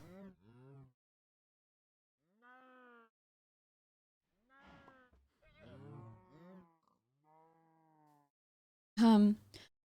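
Cows in the video game Minecraft give several short, quiet moos spaced apart, with a person talking briefly between them and a louder moment near the end.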